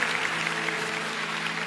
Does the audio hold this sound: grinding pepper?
no